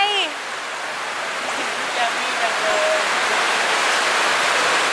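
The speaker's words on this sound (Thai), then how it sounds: "แต่ว่าตอนนี้ฝนยังตกอยู่เลย" Steady rain falls outdoors near a film set, a dense even hiss filling the whole stretch, with faint birdsong chirps in the background.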